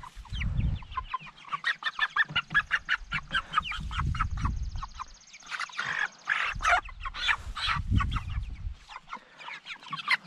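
Meat chickens in a chicken tractor cluck steadily up close, a busy overlapping chorus of short calls continuing throughout.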